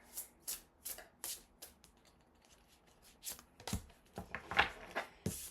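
Butterfly oracle cards being shuffled and drawn, giving soft repeated riffling and flicking bursts with brief slaps of cards landing, fairly quiet and close, with no talking.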